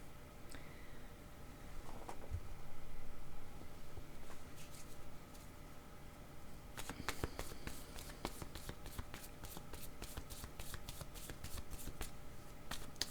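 Picture cards being shuffled and drawn, with a soft riffle early on and then a quick run of crisp card flicks and snaps, faint and close in a quiet room.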